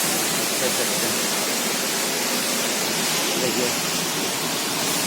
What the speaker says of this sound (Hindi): और इधर हल्का हल्का पानी नीचे गिर रहा है